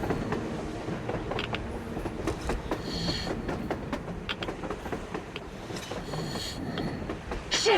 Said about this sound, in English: What a train! A damn train on the surface!